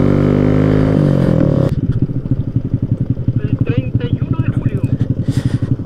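A motorcycle with its original exhaust pipe cut down drones at a steady high rev, then drops to a loud, pulsing, lumpy idle, with voices faintly under it.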